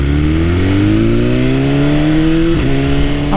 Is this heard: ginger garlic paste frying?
no